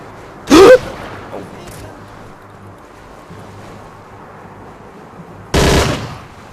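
Two short, loud bursts of gunfire in the video game Hidden and Dangerous 2, a few seconds apart over a low, steady background hum.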